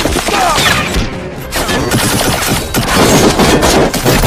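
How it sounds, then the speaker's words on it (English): Rapid bursts of gunfire and heavy blasts from a war movie battle, loud and dense throughout with little pause, dropping briefly in the middle before the shooting surges back. "The situation heated up in the area as the sounds of gunfire and bombs echoed"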